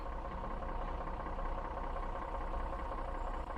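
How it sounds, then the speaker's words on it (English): A truck engine idles in the video game SnowRunner, producing a steady, moderately quiet low rumble that stays even from start to finish. "It's got a nice engine sound."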